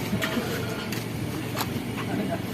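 A fishing boat's engine drones steadily and evenly throughout, a low continuous rumble with faint clicks and knocks on top, and no clear speech over it.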